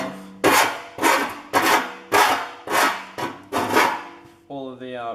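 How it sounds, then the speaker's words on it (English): A hand file scrapes along a rough cut edge of a shield piece in seven regular rasping strokes, close and fairly loud, ending with a brief tonal sound. "I'm going to have to do quite a bit of filing because mine was a really rough cut"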